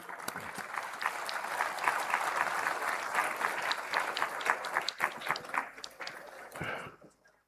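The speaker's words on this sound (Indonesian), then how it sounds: "Kita tepuk tangan." An audience at a formal gathering claps steadily and loudly for several seconds, a dense crowd applause that thins and stops abruptly at the end.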